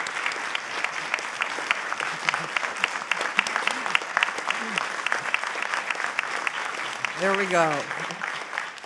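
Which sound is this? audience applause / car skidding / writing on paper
audience applause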